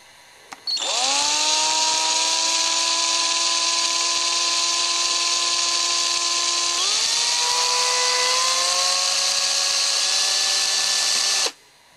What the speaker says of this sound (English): so we pick our spot, and very slowly we drill into